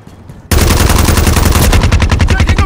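Sustained rapid automatic gunfire from a Call of Duty Modern Warfare III multiplayer match, a loud burst of fast, evenly spaced shots that kicks in abruptly after a short quieter moment and holds near and intense.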